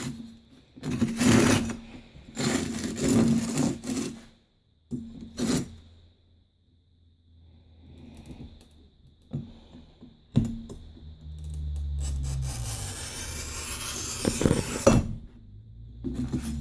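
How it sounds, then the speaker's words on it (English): A tool scores a curvy line across a ceramic tile in short, scratchy strokes separated by pauses, with occasional light clacks and a longer rasping pass near the end. "I've done a score line in there"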